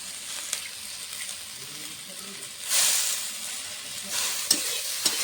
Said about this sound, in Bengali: একসঙ্গে খোসার সঙ্গে ভালো করে ভেজে নেব।